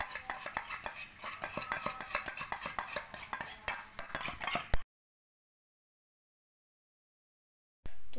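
Boric acid dissolved in warm water is being mixed into homemade slime in a bowl. Rapid, rhythmic spoon clinks and scrapes run close and steady for about five seconds, then stop, followed by silence and a brief sound at the very end.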